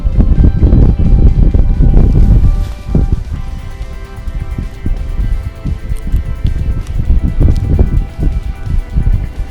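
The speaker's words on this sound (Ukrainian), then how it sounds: "Слухайте, вітер роздувається не на жарт." Strong gusting wind buffeting the microphone out on open water while fishing from a SUP board, with heavy low rumbling, roaring continuously with surges and dips throughout.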